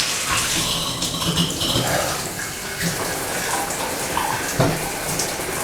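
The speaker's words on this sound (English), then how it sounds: "I'm going to direct myself out of the way of the water here." Steady hiss of water spraying from a shower head, a continuous broadband rush with small splashy fluctuations, close by, no voices.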